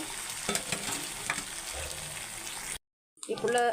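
Chicken pieces hitting hot oil with masala, a close sizzling fry with stirring scrapes, steady for a few seconds before a brief silence and a louder burst of sizzle.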